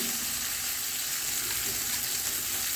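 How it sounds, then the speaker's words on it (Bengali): Tomato and green chili frying in a pan, a steady, close hiss of sizzling oil holding evenly throughout with no voices. "টমেটো লঙ্কাটা একটু ভাজা ভাজার মতো করছি"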